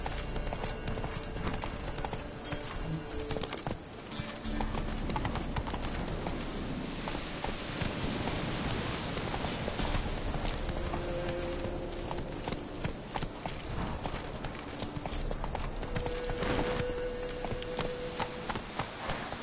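Geralt's horse Roach galloping in The Witcher 3, steady rapid hoofbeats clip-clopping close by with a faint bird-like call in the background and no talk.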